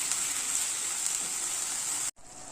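A spice paste with cashews sautés in a pan, giving a soft, even sizzle with a faint hiss. It stops abruptly for a moment near the end and then resumes.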